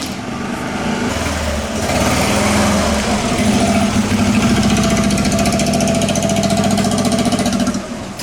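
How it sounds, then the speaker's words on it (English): A truck engine idling and revving at a classic car concours at Villa d'Este on Lake Como, a loud, close, throbbing mechanical drone that rises in intensity and pulses rhythmically before easing at the end. "The yellow truck from yesterday is back."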